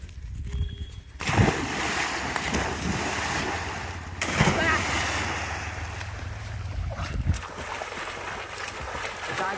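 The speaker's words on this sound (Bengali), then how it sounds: "এবার নেমে পড়ি জলে" Someone wades and splashes into a village pond to bathe, with rough churning water and buffeting wind noise, loud and near throughout.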